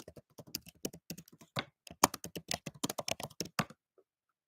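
A name is typed on a computer keyboard: a close, rapid run of irregular clicking keystrokes with brief pauses, ending abruptly in silence.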